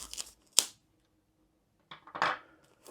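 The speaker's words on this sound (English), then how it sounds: "So I need scissors and we'll remove the cellophane" Scissors snip and crinkle cellophane wrap sealing a Diamond Art Club kit box, two short crisp bursts separated by quiet, close and fairly loud.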